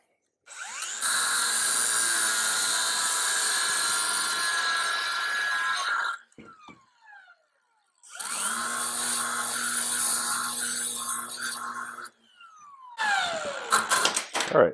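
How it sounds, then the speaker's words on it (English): A grinder trims a part while an engine is mocked up for installation in a 1956 International Little Jewel. It whines in two long, loud bursts separated by a short pause, then a shorter rough burst near the end. "I'm going to give this a quick trim with the grinder"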